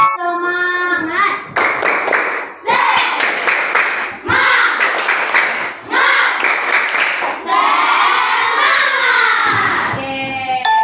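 Children perform the "tepuk semangat" clapping chant in a classroom, chanting words in unison with bursts of rhythmic group clapping between phrases, loud and close, over about ten seconds.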